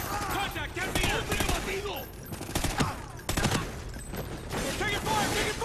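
Dense bursts of automatic and single-shot gunfire in the first-person shooter Call of Duty Ghosts, loud and continuous across the whole stretch, with rapid overlapping shots swelling and dipping in intensity.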